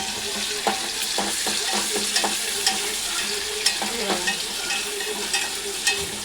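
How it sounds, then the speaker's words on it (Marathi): Onion masala frying until reddish for a curry, a bright continuous sizzle broken by repeated scraping stirs and clinks, close and fairly loud. "आता तर फ्राय करायचं चांगलं लालसर करून घेणार आहे"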